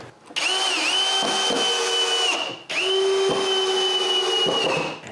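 A power driver sinks screws into wooden parts of a homemade chainsaw mill in two close, loud whirring runs of about two seconds each, separated by a short pause, with brief dips as the screw seats and no talking.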